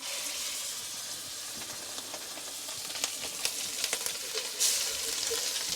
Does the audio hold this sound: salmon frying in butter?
yes